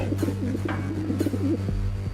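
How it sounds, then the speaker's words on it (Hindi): Pigeons coo in a cartoon, a near, throaty warbling call that repeats over a low steady hum, with no talk over it. "अरे ओ चिंटू, अब वो देख, ढेर सारे कबूतर नीचे आ रहे हैं।"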